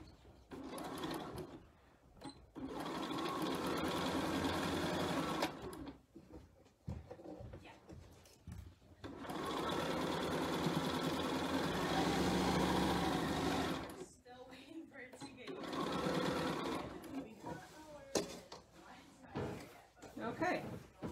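A sewing machine stitches fabric box covers in three long bursts of rapid mechanical whirring, close and moderately loud, separated by short pauses with small clicks and handling noises.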